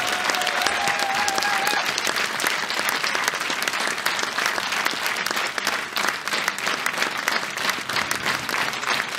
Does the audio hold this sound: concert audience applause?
yes